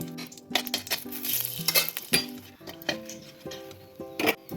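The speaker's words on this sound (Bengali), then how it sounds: "এধারে ওই তেলে আমি একটা লঙ্কা ফোড়ন দিচ্ছি" Oil left from frying brinjal sizzles softly in a pan as a chilli tempering is added, while a metal utensil clinks and scrapes repeatedly against it in an irregular rhythm.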